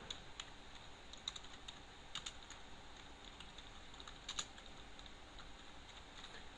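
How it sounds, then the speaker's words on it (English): Keys clatter on a computer keyboard as a command is typed, quiet close clicks in uneven bursts with a few sharper keystrokes, and no voices. "I just typed down create partition primary"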